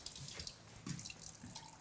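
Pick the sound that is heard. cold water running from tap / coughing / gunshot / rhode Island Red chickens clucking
cold water running from tap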